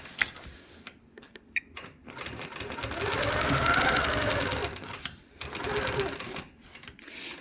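A quilting machine doing free motion ruler work on a quilt block, with bursts of rapid needle stitching that swell into a sustained whirring run in the middle, broken by short pauses and light clicks.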